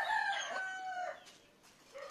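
Chickens clucking and crowing nearby, several bird calls in a busy cluster with some background rustle.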